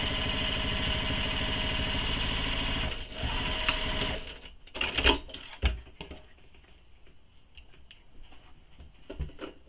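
A sewing machine topstitches the edge of a handmade squoval bag, running in a steady close, whirring buzz for several seconds before stopping, followed by sporadic clicks and handling noises.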